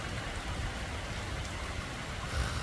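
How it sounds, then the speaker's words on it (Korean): Steady heavy rain pours down in a forest, a dense continuous hiss with a low rumble beneath it, close and even throughout with a slight swell near the end. "비가 많이 내리죠."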